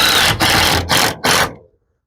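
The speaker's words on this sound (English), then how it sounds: "I'm going to stick the screws in" A power driver sends screws into the wooden frame of a chicken coop in three loud, close whirring bursts separated by brief gaps, then stops.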